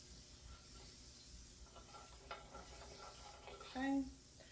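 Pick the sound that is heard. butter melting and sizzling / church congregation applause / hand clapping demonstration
butter melting and sizzling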